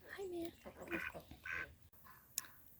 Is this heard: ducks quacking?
yes